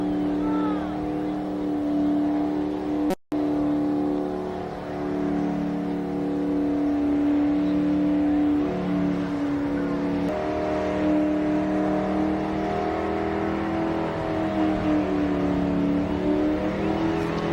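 A 1980s street machine doing a smoky burnout at Summernats, its engine roaring in a loud, sustained rev with steady harmonic drone and a brief dropout, crowd and commentary noise beneath.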